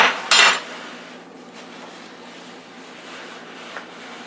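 Utensils scrape and clatter against a bowl after a pot roast is cooked in a Power Pressure Cooker XL, with one loud burst of clinking at the start, then faint handling noise.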